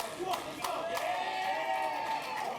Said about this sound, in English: Gets a little bit of a cheer.